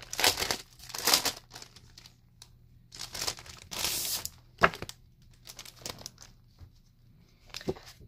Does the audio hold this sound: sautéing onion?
no